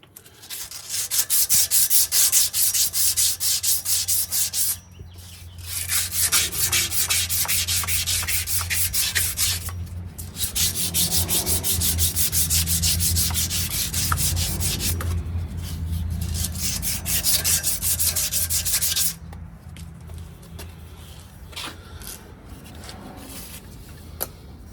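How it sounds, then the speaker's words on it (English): Emery cloth rubbed hard against a Ford Super Duty wheel bearing part, a loud continuous raspy scrubbing in long strokes with brief pauses, then fading to quieter handling near the end. "Okay, emery cloth, it's just a piece of sandpaper,"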